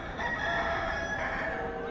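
A mechanical clock's rooster figure pops out with a crowing call, a sustained, bright, somewhat reedy cock-a-doodle-doo heard clearly over a steady background.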